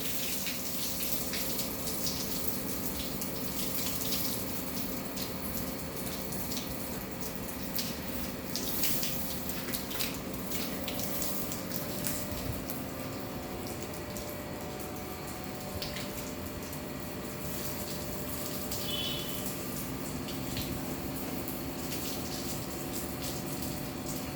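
Water flowing steadily through a plant watering system and draining into a tank below, a continuous soft gush with pump hum, no voices.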